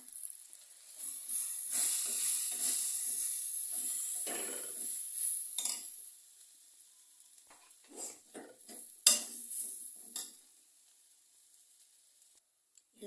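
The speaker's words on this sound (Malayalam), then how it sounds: "നന്നായിട്ട് ഇളക്കി യോജിപ്പിക്കാം" Chicken masala being stirred with added chili powder in a pan for chicken thoran: intermittent scraping and stirring with a soft sizzling hiss, louder in the first half and then sparse, quieter strokes.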